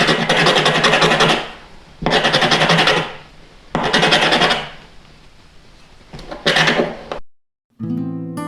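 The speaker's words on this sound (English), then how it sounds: "So I'm going to sand this down." A wooden dowel for a homemade drop spindle is sanded by hand in four loud, rasping bursts, each lasting about a second with short pauses between. A brief tonal sound follows after a moment of silence.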